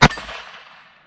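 A single sharp metallic clang as a .22 LR bullet from a GSG Firefly pistol, firing CCI standard velocity rounds, strikes a small steel target plate, ringing out briefly and decaying over about a second.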